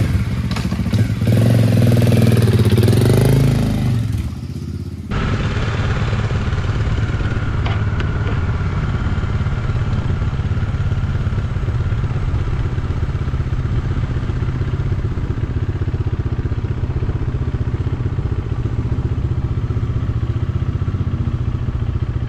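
A modified Bajaj Dominar 400 motorcycle rides with a steady, loud engine drone and wind rush close by, after a brief burst of louder revving and rumble at the start.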